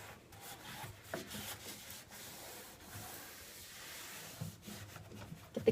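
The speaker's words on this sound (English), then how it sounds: "you just come back with a rag or an old t-shirt, and you just kind of wipe your excess off of the surface" A rag or old t-shirt wipes excess hemp oil off a wooden surface around a knob, giving soft, continuous rubbing and scuffing strokes, fairly quiet and close, with a few firmer swipes near the end.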